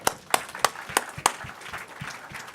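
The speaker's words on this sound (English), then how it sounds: "So I think you should all give yourself a round of applause." Audience at a local innovation event claps, a few sharp, separate hand claps at first that thin into softer, scattered clapping, moderately close in a hall.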